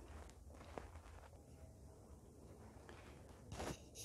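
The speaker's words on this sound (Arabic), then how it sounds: "تسمعو خطوات رجلية." Footsteps walking through an old library in Alexandria, Egypt, faint and hollow, with soft irregular treads over a quiet room tone and a slightly louder scuff near the end.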